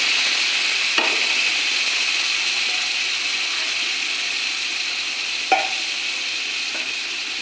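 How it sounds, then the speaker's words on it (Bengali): Onion, garlic and masala frying in a pan at home, a steady soft sizzle running throughout, with a couple of sharp spatula scrapes as the paste is stirred. "একটু জল দিয়ে মশলাটা ভালো করে কষে নেব"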